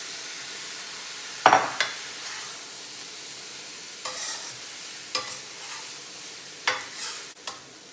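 Mushrooms and petite frozen peas stir-fried in a pan for shrimp fried rice, with a steady close sizzle broken by several sharp scraping stirs at uneven intervals.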